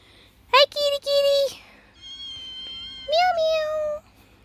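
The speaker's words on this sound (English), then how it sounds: "there's a kitty meowing at me" A cat in a barn with chickens, turkeys and guineas gives two clear meows, one short and one drawn out, with a pause between. Both are close and loud over a quiet background.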